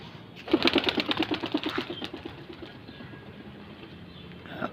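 A rapid burst of wing flapping from pigeons being trained, rhythmic beats close by that quicken then fade, followed by quieter rustling.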